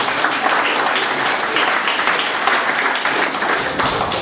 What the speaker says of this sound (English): You could give them a ripple of applause if you wish